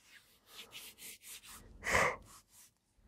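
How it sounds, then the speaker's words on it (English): A person gives a breathy yawn: soft, drawn-out inhalations, then a louder open-mouthed exhale that swells and fades, close to the microphone. "excuse me, ladies and gentlemen, for the yawning"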